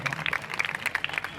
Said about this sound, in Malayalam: നല്ലൊരു കൈയടി കൊടുക്കണം.